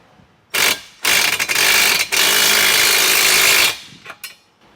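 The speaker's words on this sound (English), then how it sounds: "So I'm going to do the same thing on the bottom bracket, and we'll fasten all of our bolts." A power tool whirs in loud, sustained bursts while fastening bolts on a MORryde tailgate reinforcement bracket for a Jeep Wrangler, one short run then a longer one of about two and a half seconds, with mechanical rattling after.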